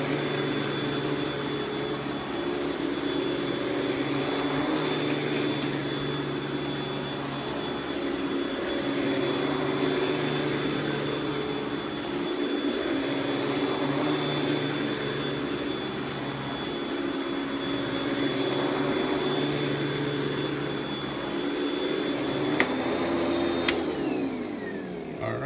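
A Panasonic Jet Flo MC-6225 vacuum cleaner runs steadily and loudly close by, a constant motor drone with a high whine, ending in a couple of sharp clicks as it is switched off.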